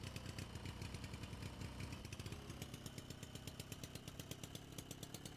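A car engine runs steadily in the driving game Jalopy, a loud, continuous rumble with a regular pulsing beat and no talk over it.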